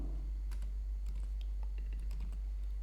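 Code being typed on a computer keyboard in quick, irregular bursts of light key clicks over a steady low hum.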